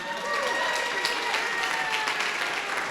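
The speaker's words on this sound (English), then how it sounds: "A big round of applause for George." Wedding guests at a speeches reception applaud the MC, a steady wash of clapping with some voices mixed in, fairly close and even in level throughout.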